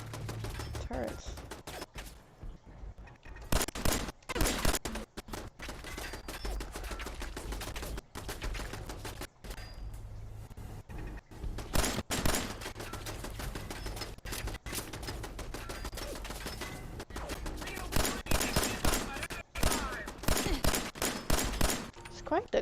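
Rapid gunfire bursts from a weapon in Fallout 4 crackle in repeated volleys with short pauses, loud and close, while a voice talks intermittently underneath.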